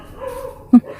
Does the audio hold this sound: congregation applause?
no